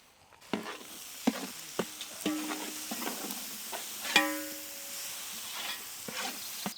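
Bread pakoda stuffing with ginger being sautéed in a pan gives sharp, irregular clinks and scrapes of a spoon on metal, some ringing briefly, over a soft background sizzle at close range.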